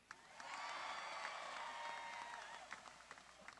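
A crowd at a Barry Sanders statue unveiling applauds for Cowboys head coach Mike Gundy, a steady wash of clapping that swells quickly, holds, then thins out with scattered claps, heard from a distance.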